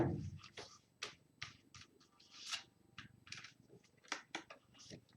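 Tarot cards fanned out across a table at close range, a series of soft, dry slides and light flicks in uneven bursts, quiet and without talk.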